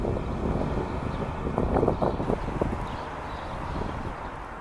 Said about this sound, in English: And it's fucking windy